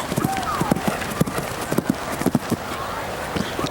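Horse hooves clip-clopping in a show jumping round at Spruce Meadows, a quick irregular beat of thuds close to the microphone, heard under a commentator's steady talk.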